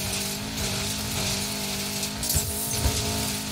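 An off-road car races fast in the video game Need for Speed Payback, its engine droning steadily with tire noise and a couple of brief thumps, loud and continuous with no talk.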